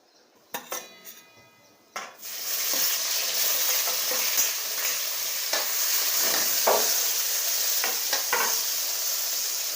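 Cumin seeds hit a ladleful of hot oil in a wok, crackling with a few sharp clinks of a utensil at first, then settling into a steady, loud sizzle that continues throughout.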